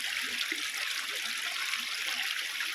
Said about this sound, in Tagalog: Ganda lang ng daloy ng tubig.